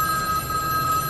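A telephone in The Matrix rings with a steady electronic trill, one continuous unbroken tone held for the whole moment, loud and alone with no voices over it.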